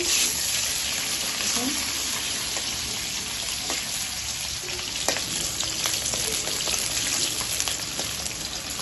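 Onions fry in hot oil with a continuous broad sizzle that stays loud and even throughout, with faint scattered crackles over it.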